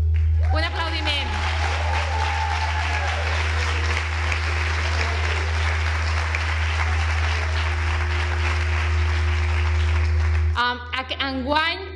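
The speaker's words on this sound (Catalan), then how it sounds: "Un aplaudiment." Applause from an audience opening a primary education graduation ceremony for the 2019-2020 class, a steady broad wash of clapping lasting about ten seconds over a low hum before ending abruptly, with voices following.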